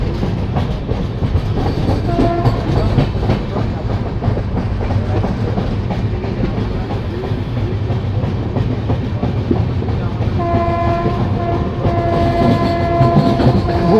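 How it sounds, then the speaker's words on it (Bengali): The Dhauli Express rolls into Kharagpur station with a loud, steady rumble and rhythmic clickety-clack of wheels, and sustained horn tones sound near the end. "ট্রেন খড়গপুর এন্টার করছে।"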